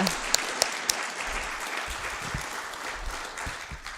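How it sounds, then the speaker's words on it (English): Audience applause at a Buddhist dharma talk fills the room with steady, dense clapping, a few sharper claps standing out near the start, holding at an even level throughout. "When you clap your hands, you can do it confidently and loud."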